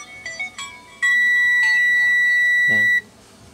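Continuity buzzer on a multimeter sounding during probing of a Palit GTX 1050 Ti Storm X graphics card: a couple of brief chirps, then one loud steady tone held for about two seconds that cuts off abruptly.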